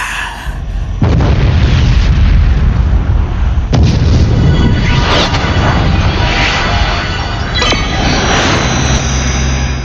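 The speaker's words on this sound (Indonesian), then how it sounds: "Kembang api." Loud fireworks boom and crackle one after another, with sharp bursts and sparkling fizzes over a constant roar.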